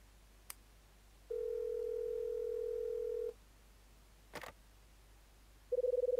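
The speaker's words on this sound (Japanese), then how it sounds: "レイチェルに電話をするか。" In a DS game, a steady telephone dial tone hums for about two seconds, followed by a brief click and a short buzzing tone at the end, all quiet against a faint low hum.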